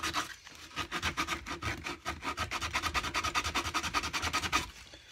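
Sandpaper rubs back and forth along the wooden edges of a cigar box guitar, rounding them off in a steady run of quick rasping strokes, close and continuous.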